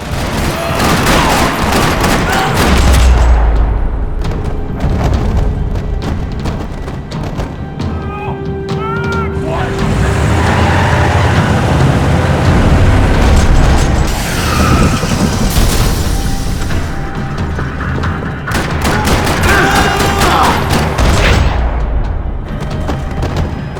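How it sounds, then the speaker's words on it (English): Loud, sustained bursts of Max Payne 3 gunfire crackle and rattle in a parking lot for the whole stretch, with booming shots and short lulls between volleys. "Another parking lot rattling with gunfire."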